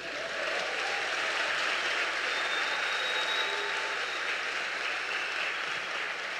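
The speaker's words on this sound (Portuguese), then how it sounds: "Dá um aplauso aí para o Senhor." A church congregation applauds in worship, producing a dense, even wash of clapping that holds steady and fairly loud throughout without pause.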